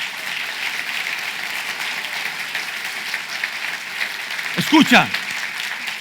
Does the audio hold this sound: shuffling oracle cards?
no